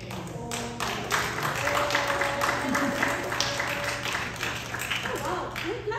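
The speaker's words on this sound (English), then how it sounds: "we're clapping again" A congregation applauds during a church service, a sustained wash of clapping from many hands that swells after the first second and holds steady, with a faint tone and hum beneath.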